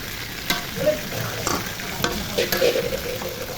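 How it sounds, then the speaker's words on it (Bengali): Pieces of broiler chicken fry in a spice mix for biryani, giving a continuous close, loud sizzle with stirring scrapes and no talking. "মাংসগুলো ভেজে নিতেছি মশলা মধ্যে মাংসগুলো ভাজা হয়ে গেছে"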